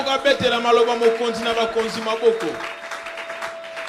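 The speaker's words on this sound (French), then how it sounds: "Que quelqu'un acclame la parole du Seigneur des Seigneurs." A church congregation at a Sunday service applauds in a burst of clapping and cheering that fades out over a few seconds, while a voice rings out above it.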